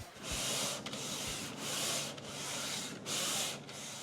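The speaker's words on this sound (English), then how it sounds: "Right now we are fairing and sanding the hull" Steady abrasive rasping of a longboard sanding a 50-foot boat hull during fairing, long back-and-forth strokes with short pauses between them, close and continuous, no voices.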